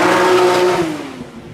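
A rally car at the 2021 Daytona Rally roars loudly past through a town, its revving engine note sliding lower as it moves away and fades within a second or two.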